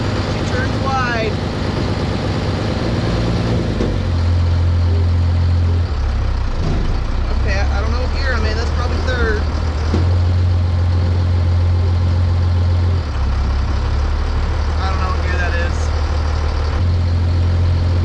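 A Cummins-powered Ford Dentside truck drives on the road in low gear, its engine a steady low drone throughout, loud and close, while people talk over it.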